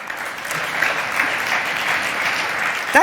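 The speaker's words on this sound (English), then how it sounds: "could have given a larger applause" A conference audience gives steady, moderately loud applause for a keynote on digital fairness and competition, even and continuous, ending as a voice cuts in.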